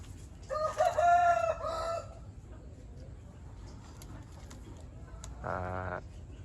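A decoy jungle fowl rooster gives one loud, close crow early on, then a shorter second call a few seconds later, with quiet outdoor background between.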